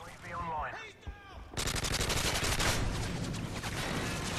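Rapid automatic gunfire from Call of Duty Modern Warfare 3 bursts in after a brief spoken exclamation and keeps rattling loudly and densely to the end.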